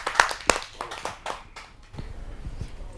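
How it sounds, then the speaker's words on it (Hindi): An audience at a Hindi poetry gathering applauds to welcome a poet, sharp close claps at first, then a looser, softer patter of hands that thins out over a few seconds. "आइए जोरदार तालियों से उनका स्वागत करें।"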